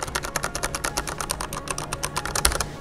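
Rapid, steady keystrokes on the switches of a mechanical keyboard from the Cọc Xe brand, a budget 2020 model, clicking close and clear in an even typing rhythm with no voices.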